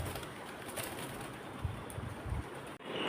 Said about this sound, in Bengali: চলে এসছে পায়রাগুলো গম খেতে।